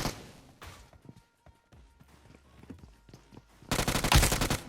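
Shotgun blasts in the mobile game PUBG Mobile, with several sharp separate shots, some footsteps, and a loud burst of rapid gunfire near the end.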